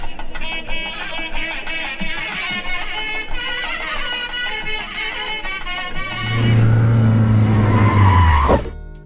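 A car in an action film pulls away with tires skidding and squealing, a loud rising screech over a low engine roar in the last few seconds, following a stretch of dramatic background music.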